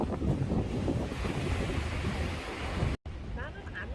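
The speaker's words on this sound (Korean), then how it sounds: "파도가 높습니다." High waves break at Dongmyeong harbor in a steady, loud roar of surf mixed with rough wind buffeting on the microphone, cutting out briefly near the end before continuing more quietly.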